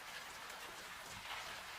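Steady rain falls at night, a soft continuous hiss of drops that stays faint and even throughout with no voices.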